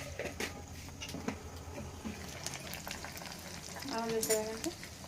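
Chana dal and mustard seeds frying in hot oil for an idli chutney tempering: a continuous crackling sizzle with scattered pops and stirring taps, close up and without talk.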